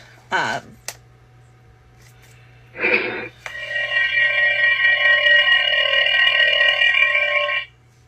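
A loud electronic Tron identity disc toy plays synthetic sci-fi effects: two short zaps, then a sustained warbling, pulsing tone that holds for several seconds before cutting off.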